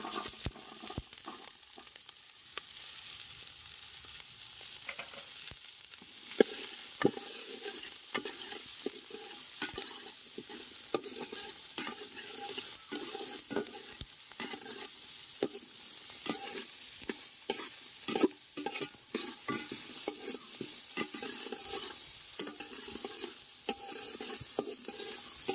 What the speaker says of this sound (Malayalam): ഇതിലേക്ക് നമുക്ക് സവാള ഇട്ട് കൊടുക്കാം.